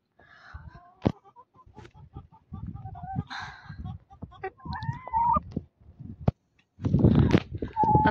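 A hen clucks in short, close bursts on a backyard poultry setup, with scattered bird calls, a few knocks and louder rustling near the end, mixed with someone speaking.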